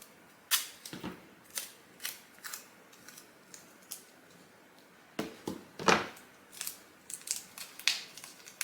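A staple gun fastens canvas onto a wooden sign frame, sharp close snapping clicks arriving singly and in quick clusters with short quiet gaps between them.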